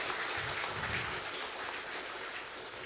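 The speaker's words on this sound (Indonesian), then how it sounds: "Boleh kita tepuk tangan sekali lagi?" Steady applause from a talk-show audience, a dense, even clatter of clapping heard with no voices over it.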